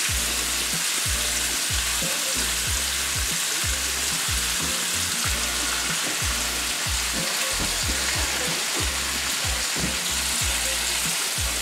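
Bacon frying in a cast iron pan, a steady dense sizzle with continuous crackle and popping held at a constant level throughout, close and loud with no voices.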